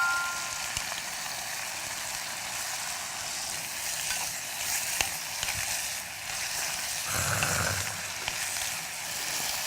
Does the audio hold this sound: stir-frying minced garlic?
yes